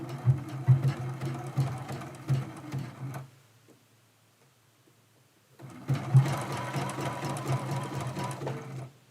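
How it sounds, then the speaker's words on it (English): A domestic sewing machine runs a zigzag stitch on quilt fabric, a rapid rattling whir in two bursts split by a few seconds of near silence, close and moderately loud. "So I'm going to choose a zigzag stitch."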